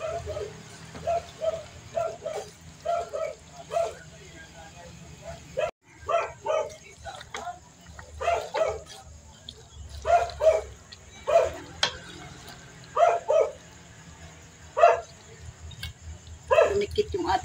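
A dog barks repeatedly at home while a meal is prepared, short sharp yaps in irregular bursts of two or three, fairly close, over a low kitchen hum.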